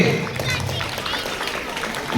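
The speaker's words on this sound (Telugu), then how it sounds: "clap loudly" Audience clapping at a school annual day celebration in Gudur, a steady wash of applause mixed with crowd chatter and voices, fairly loud throughout.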